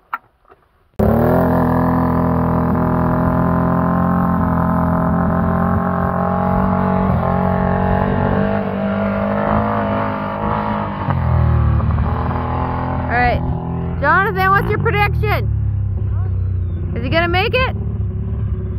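A car drives through deep floodwater on a swamped road, its engine rumbling steadily throughout with a surge near the end, while people talk over it.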